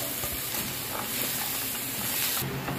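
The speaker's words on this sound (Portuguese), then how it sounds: "eu vou colocar uma cebola picada" Chopped onion sizzling in a single large pot as it hits the hot oil, a steady close hiss and crackle running without pause, with no talk over it.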